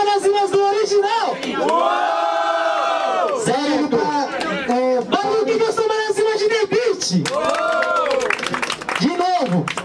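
At the grand final of a Brazilian rap battle, a large crowd roars and cheers loudly, with sustained chanting and whooping voices rising and falling together over a few seconds.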